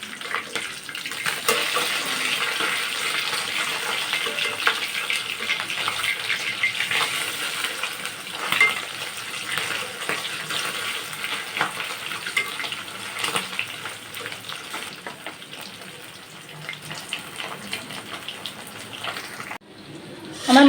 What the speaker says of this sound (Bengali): এভাবে আমি সব মাছগুলো ভেজে নেব।